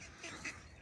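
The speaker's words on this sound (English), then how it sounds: "You got two male ducks, or mallards as you would call them, chasing the poor female duck through the woods." Mallard ducks chasing a female through woodland give two quick quacks, faint and slightly distant.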